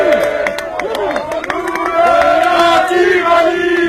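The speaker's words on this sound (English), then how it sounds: "Applaudissez!" A crowd at a street protest in France's Grand Est claps and cheers while shouting and chanting voices rise over the noise, loud and close, with steady crowd din underneath.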